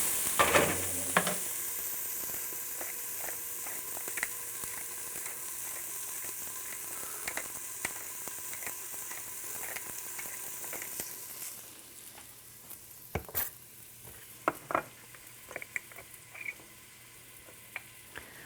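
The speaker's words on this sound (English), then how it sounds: "I'll stir these spices around as they go in." Spices stirred in a frying pan, with a steady close sizzle of hot oil and scattered scraping and tapping from the utensil against the pan.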